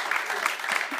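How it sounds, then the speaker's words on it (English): Applause from an audience at a conference session, a steady wash of many hands clapping at moderate volume through the whole short moment. "Can we give them a round of applause, please?"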